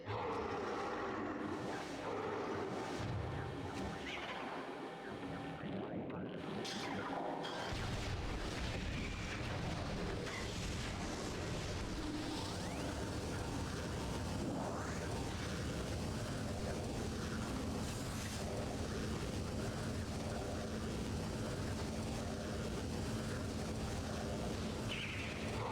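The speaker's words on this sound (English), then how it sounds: "Thank goodness for the power bombs." Power bomb explosions in Metroid Prime while exploring the Phazon Mines, a dense, sustained roaring rumble of blasts that stays loud throughout with no clear breaks.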